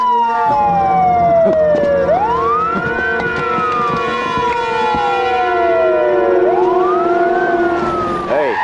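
A police car siren in a night movie scene wails in two slow rising-and-falling sweeps. It is loud and prominent over a low background hum.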